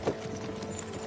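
Horses' hooves clip-clop steadily on a road in Kingdom Come: Deliverance II, a medieval game scene with carriage travel. The beats are close and moderately loud, set against a dense background rumble.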